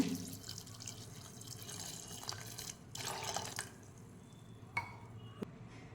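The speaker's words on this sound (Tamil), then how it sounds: "ஒரு பவுலில் சேர்த்துக்குங்க அதோட தண்ணி சேர்த்துக்குங்க" Water is poured into a bowl of raw peanuts for soaking, a faint, close trickle and splash with a few drips and light clinks in a quiet kitchen.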